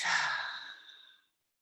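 A single deep, slow exhale during a guided yoga meditation, a soft breathy sigh that starts full and fades away over about a second into silence.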